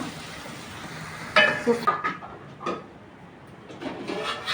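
Sliced onions fry in a pan for a fish curry, a soft steady sizzle broken by clattering stirs and scrapes of a utensil against the pan, close by.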